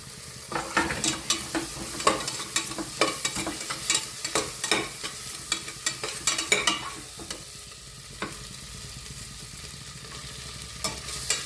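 Onions browning in hot oil with whole spices, a soft continuous sizzle broken by repeated scraping stirs that come in bursts, then a quieter stretch of frying near the end.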